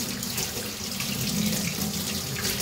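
Tap water runs steadily into a sink while a grape popsicle mould is washed underneath it, a close, continuous splashing hiss.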